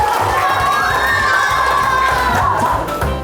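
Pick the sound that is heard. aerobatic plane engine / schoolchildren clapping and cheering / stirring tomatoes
schoolchildren clapping and cheering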